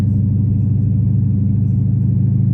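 A car with a mechanical fault is heard from inside while driving, giving a loud, steady low drone with a faint pulsing throb and no voices.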